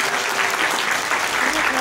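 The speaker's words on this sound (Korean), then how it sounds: "다시 한번 박수를 부탁드리겠습니다" Wedding guests applauding after a modern medley song, a dense, steady burst of clapping from a crowd, close and continuous, with a voice faintly underneath.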